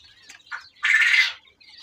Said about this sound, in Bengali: কোয়েল থোয়া আছে